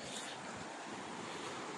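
A river rushes past nearby in a steady, broad roar of flowing water with no breaks, fairly faint overall and with no voices.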